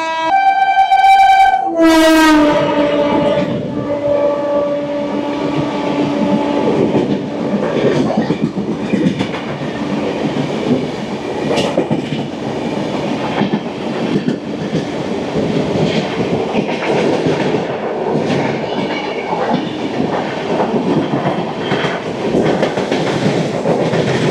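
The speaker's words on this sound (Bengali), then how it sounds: "চলে আসছে হাওড়া থেকে পুরী সুপারফাস্ট এক্সপ্রেস" Howrah to Puri Superfast Express pulling into a station: a loud horn blast at the start, then a sustained rumble and clatter of wheels and carriages rolling past close by.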